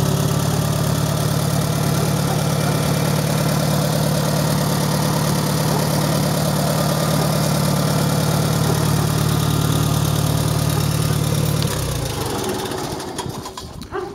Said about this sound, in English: And that's a 1973 International Harvester, Farmall 140.